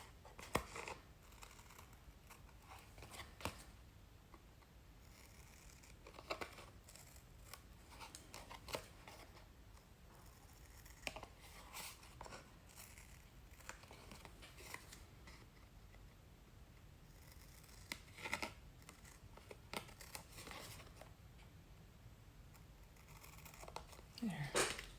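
Scissors trimming paper for a junk journal made from a junk mail mailer, giving faint, close snips and paper rustles that recur irregularly over a quiet background.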